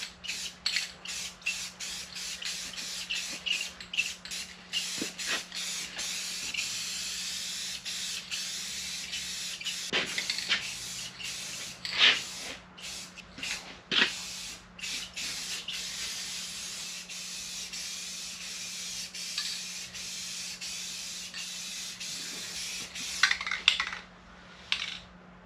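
An aerosol spray can lays clear coat on a handle of a 1957 Chevy, giving a long, near hiss in short and longer bursts, broken by rattles and small clicks of the can.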